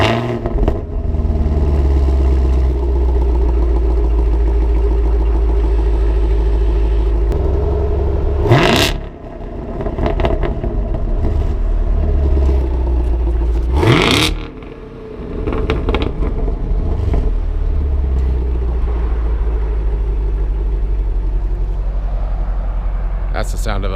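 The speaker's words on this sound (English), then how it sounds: "That's the sound of a healthy V8." A Chevrolet Camaro SS V8 with an MPP exhaust idles with a deep steady rumble and is blipped twice into loud, rising revs that quickly fall back to idle.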